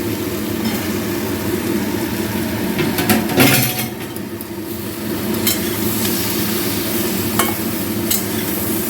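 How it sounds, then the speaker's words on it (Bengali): Brinjal frying with chilli powder and spices hisses steadily as it is stirred, with a louder clattering scrape midway and light clinks later. "বেগুনগুলো দিয়ে ভালো করে কষিয়ে নিই"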